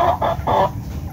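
A Lucky Gold double over Papay Gray gamefowl hen clucks close by, three short rhythmic clucks followed by a quieter trailing note.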